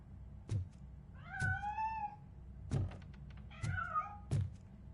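A cat meowing in a Robocop story: two drawn-out, wavering meows, each framed by low dull thumps, the knocks recurring at irregular intervals, moderately loud and close, with no speech.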